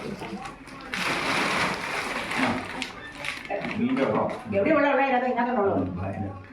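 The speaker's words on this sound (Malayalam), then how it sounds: "അത് വെള്ളം ചാടുന്നു" Water splashes and sloshes in bursts nearby while people talk over it.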